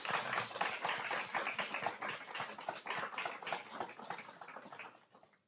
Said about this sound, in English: Please speak, but in human form, for these amazing individuals by clapping your hands.